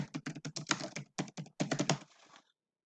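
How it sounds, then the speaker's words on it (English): Rapid bursts of keystrokes on a computer keyboard as text is entered, close and fairly loud, in quick clustered runs with brief pauses, trailing off into silence near the end. "And then we're going to type featured monument."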